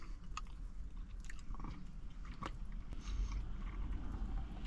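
Close, wet chewing of a vegan pizza with toppings at a boardwalk-style vegan restaurant, steady mastication with soft crunches running through the whole stretch, no talking.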